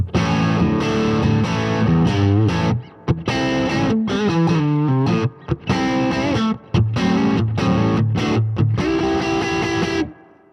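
Fender Elite Telecaster electric guitar with both pickups wired in series, playing a loud, distorted run of chords and single notes with brief gaps, heard alone and close.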